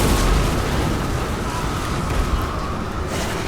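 Wind of Death spell blasting an enemy flank in Total War Warhammer, a dense, loud roaring wash of explosive rumble and crackle that holds steady for a few seconds without talk.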